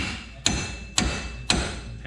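Hammer blows on a tie rod end of a 2005 Dodge Dakota 3.7L 4x4, three sharp metallic strikes evenly spaced about half a second apart over a steady background hum.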